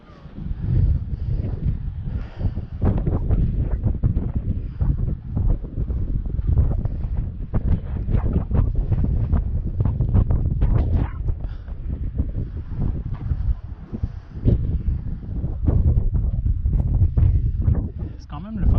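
Gusty wind at Bryce Canyon buffets the microphone in loud, continuous rumbling bursts for the whole stretch, with scattered thumps and rustles mixed in and no clear talk.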